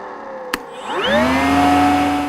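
A Makita 18V HEPA wet/dry vacuum is switched on, giving a sharp click before its motor whines up over about half a second and then holds a steady, close, loud drone with a clear tonal hum.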